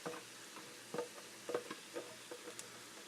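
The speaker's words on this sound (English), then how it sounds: "Get our little rubber spatula here to scrape all the other onion bits out of the bottom." A small rubber spatula scrapes diced onion bits off the bottom of a pan while making lasagna, giving soft, irregular scuffing strokes with faint frying sizzle beneath, fairly quiet and without talk.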